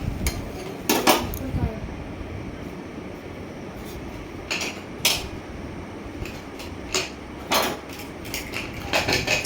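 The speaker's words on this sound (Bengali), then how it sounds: "ভালো করে নেড়ে নিচ্ছি" Rice and boiled dal stirred in a pot for khichuri, sharp scraping and clinking of a spoon against the metal pot in irregular bursts over a low background hiss, close by, with no talk.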